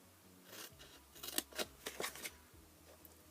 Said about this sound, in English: take our scissors and we're going to remove all of these squares